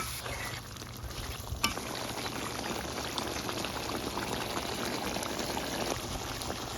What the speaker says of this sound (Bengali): মাছটা কষানো হয়ে গেছে